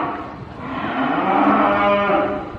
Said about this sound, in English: These are real cows.